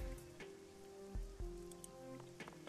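Steady rain falling in the Hong Kong walled city of the video game Shadowrun: Hong Kong, a faint continuous patter under a sustained low musical drone, with a couple of soft thuds and no voices.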